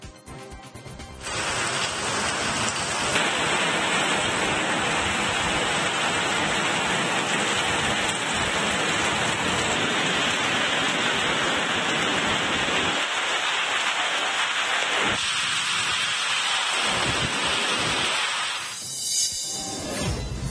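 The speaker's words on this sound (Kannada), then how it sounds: "ಚಿತ್ರದುರ್ಗದಲ್ಲಿ ಸತತ 1 ಗಂಟೆಯಿಂದ ಮಳೆ ಸುರಿತಾ ಇದೆ" Heavy, steady rain pours down in Chitradurga, a dense continuous roar that stays loud and unbroken from start to finish, with no voices over it.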